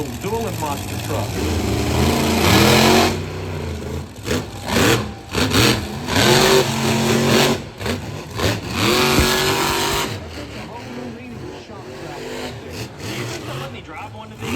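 Monster truck engines rev hard in several loud surges before settling to a lower rumble, with people talking over them.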